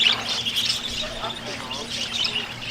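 Birds chirp in rapid, high tweets up close at a Virginia safari park and zoo, scattered repeatedly over a breezy outdoor background while people talk nearby.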